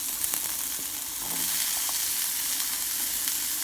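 Mixed vegetables with raw curry leaves sauté in a pan for a weight-loss soup, giving a steady, close hiss and sizzle with a few soft stirring clicks and no talk.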